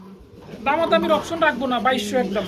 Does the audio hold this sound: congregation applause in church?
no